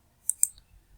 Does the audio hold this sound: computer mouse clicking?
yes